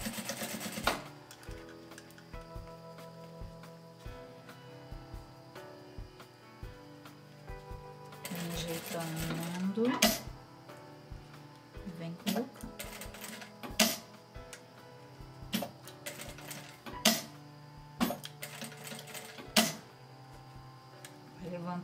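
A sewing machine stitches an oral hygiene kit, running in a steady rapid clatter for most of the stretch, broken by a few short pauses and louder mechanical clunks as the presser foot is lifted and the fabric is adjusted.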